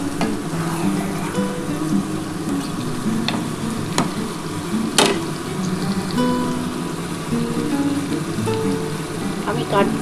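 Chopped tomato sautés in a pan for a spicy loach fish curry, a loud, steady sizzle with occasional sharp clinks of a spoon against the pan, close and continuous.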